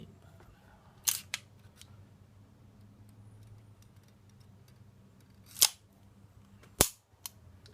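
A 1911-style Commander 9mm pistol is handled, giving a few sharp, isolated metallic clicks and snaps spaced several seconds apart over a quiet background.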